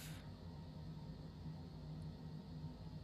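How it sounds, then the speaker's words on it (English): Cessna Citation Longitude business jet engines idling in Microsoft Flight Simulator 2020, a steady low droning hum with a brief hiss at the start, continuous and even throughout. "Engines are running, so we're going to go APU off."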